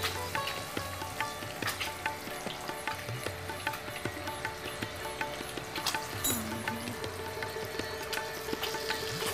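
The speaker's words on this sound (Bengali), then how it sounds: "এবার ডিম ভাজাটাকে আস্তে করে তুলে নেব।" An egg frying in hot oil gives a soft, steady crackling sizzle close by, with scattered light pops and occasional utensil clinks, and no talking.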